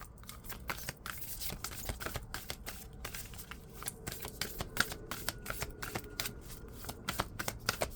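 Tarot cards are shuffled close by, a quiet, busy run of rapid riffling flicks and soft slaps that continues without talk.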